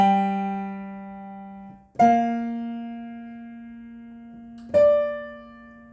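A piano plays the chorus of a song as an easy tutorial phrase: three clear struck chords or notes, spaced about two to three seconds apart, each ringing out and slowly decaying, with no talking.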